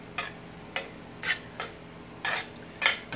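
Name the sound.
stirring minced garlic into cooking meat in a pan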